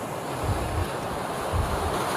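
Sea waves wash onto a Moroccan shore in a steady, rolling roar, with wind buffeting the microphone and a few soft surges. The sound is loud and continuous, with no voices.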